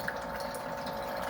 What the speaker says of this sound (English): this little device that we got for filling up our water jugs here. So this is battery operated.